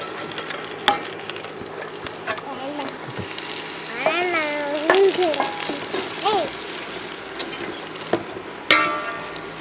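Finely chopped beans stir-fried for hot and sour soup, with scraping spatula strokes and a soft sizzle in the pan while someone talks over the cooking.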